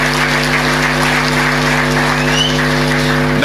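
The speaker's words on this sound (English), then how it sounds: "I want you to applaud and to say to her" Audience applause at the Saint Lucia Tourism Awards, a steady dense wash of clapping throughout with a strong low electrical hum running underneath.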